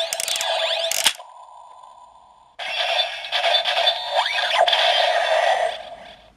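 Kamen Rider OOO DX Birth Driver toy, knob being turned: a loud electronic sound effect with a short burst, a steady tone, then a long bright buzzing, sweeping effect ending in a faint tail.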